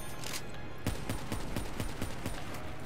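Rapid bursts of gunfire from Call of Duty Black Ops III zombies mode, a steady run of sharp evenly spaced shots over a dense game soundscape.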